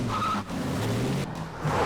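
A car pulls off with its tires squealing and skidding, a loud continuous screech of rubber over engine noise that briefly dips mid-way before carrying on.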